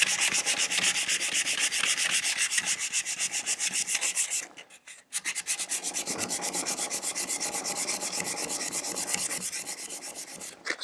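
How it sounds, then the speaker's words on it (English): A small sanding block with 220-grit paper rubs a wooden Greene & Greene style ribbon drawer pull in close, rapid, rhythmic strokes, with a short pause midway before the scrubbing resumes. "Small sanding block."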